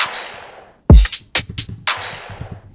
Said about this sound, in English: And then the pre-drop is the gunshot.